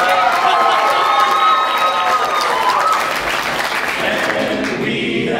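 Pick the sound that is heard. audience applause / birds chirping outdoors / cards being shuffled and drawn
audience applause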